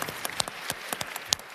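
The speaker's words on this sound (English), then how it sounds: "And a round of applause, please." Audience applause after the introduction of a speaker at a live debate on whether sanctions work, at the Oslo Freedom Forum; scattered, fairly light clapping from a crowd, steady for over a second with a few sharper individual claps standing out.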